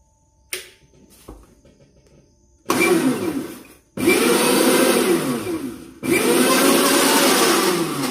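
A kitchen blender grinds spices in three loud, whirring bursts separated by short pauses, each run rising to a steady roar, after a few quiet clicks and handling sounds at the start.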